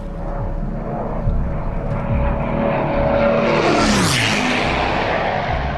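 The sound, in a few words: low-flying aircraft passing overhead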